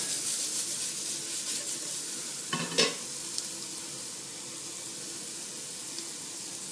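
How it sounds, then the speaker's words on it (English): Onions softening in a pan give a steady low sizzle, and one brief clatter of stirring comes near the middle, close and fairly quiet with no voices. "just give them a little bit of a stir"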